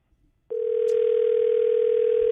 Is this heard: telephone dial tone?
yes